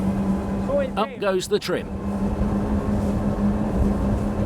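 Cigarette 42 Huntress powerboat with four 350-horsepower Mercury Verado outboards running at steady speed, a continuous engine drone under a man's speech.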